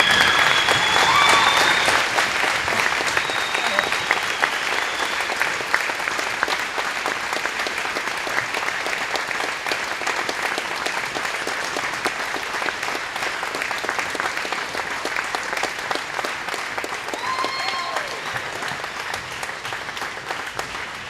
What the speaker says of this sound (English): I ask that you would give these students a standing ovation for the fight that they're going through